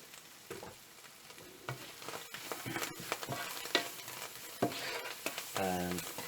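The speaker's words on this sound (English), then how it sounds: "fry it for a couple of minutes and put it out" Seasoned smoked mussels frying in a pan, a continuous close sizzle with crackles and soft stirring scrapes, moderately quiet with no talking.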